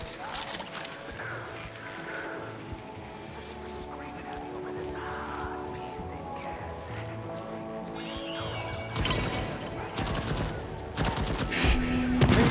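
Rapid bursts of automated turret gunfire in the video game Deathloop, crackling over a busy bed of game sound and music, growing louder and denser toward the end.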